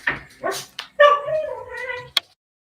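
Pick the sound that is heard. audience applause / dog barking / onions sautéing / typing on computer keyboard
dog barking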